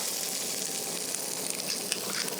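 Fish resting in a hot pan gives a dense, continuous sizzle, steady and close, with faint crackles and no voices.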